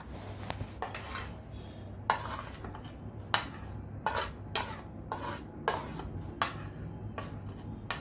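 Spices are stirred with water into a paste for a light fish curry, heard as a series of close spoon clinks and scrapes against a bowl at irregular intervals over a soft low hum.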